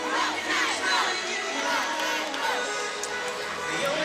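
Home crowd at a college women's gymnastics meet, Florida vs Alabama, roars and cheers continuously, loud and dense with shouts and whoops rising and falling.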